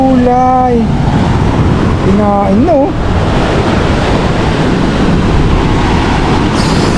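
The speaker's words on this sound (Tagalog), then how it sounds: "Sobrang lakas ng alon." Strong ocean waves crash steadily on a Zambales shore, a loud, continuous roar of surf with wind noise, broken early by a couple of short high-pitched tones.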